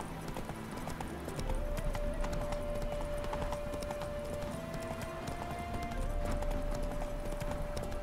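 Roach the horse trots steadily in The Witcher 3: Hearts of Stone, hooves clip-clopping in an even rhythm over a continuous bed of ambient game sound and a faint sustained musical tone.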